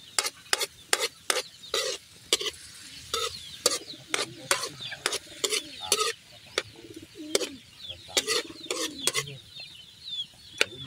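Bird calls ring out outdoors beside an open-air smoky cookout, sharp repeated bursts coming in an irregular rhythm, fairly close and loud over a low crackling background.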